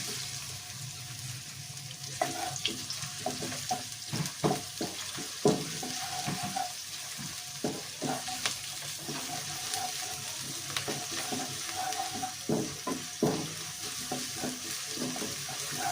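Onion sizzles steadily in hot oil, with repeated scraping and stirring clatters from a utensil against the pan, close by and no talking.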